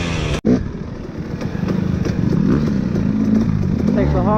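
A motocross bike is ridden nearby, its engine a loud, steady buzzing drone with rising revs toward the end, following a sharp burst at the start.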